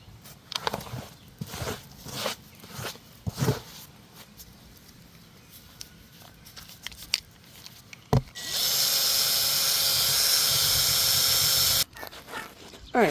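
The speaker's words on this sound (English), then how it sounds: "Just gonna grab my drill real quick." Scattered clicks and handling knocks give way to a loud, steady whirring burst of a power drill boring for several seconds, then stopping.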